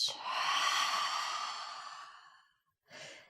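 A long, soft breath is pushed out through the mouth during a beginner vinyasa yoga session, close and airy, fading over about two and a half seconds, followed by a short pause and the start of another quiet breath.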